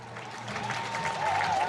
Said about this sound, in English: If you heard the crowd when he came in, you will hear the crowd as he goes out